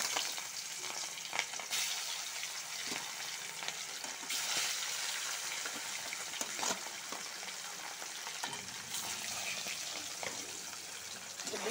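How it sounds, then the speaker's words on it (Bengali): Small aier fish drop into hot oil in a home kitchen, giving a soft, steady sizzle and crackle that runs throughout at low volume. "তেলটা গরম হয়ে গেছে, এখন মাছটা ঢালবো।"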